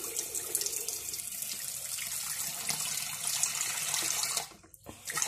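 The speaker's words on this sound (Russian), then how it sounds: "Пошла водичка у нас." Water gushes steadily from the outlet of a repaired Pedrollo JSWm 15MX household pump station, a continuous hissing splash that briefly drops away near the end before resuming, heard alone without talk.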